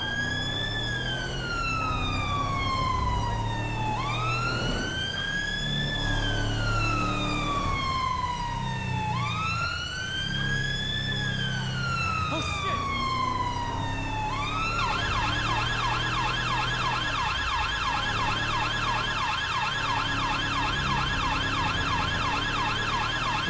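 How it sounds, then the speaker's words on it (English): Police siren on a PSNI Land Rover Discovery patrol vehicle in the game LSPDFR, resembling but not Met Police sirens: a loud, continuous wail sweeping up and down in long repeated cycles, then a faster yelp pattern, heard close with no talk. "These are similar to the Met sirens, but they aren't actually Met sirens."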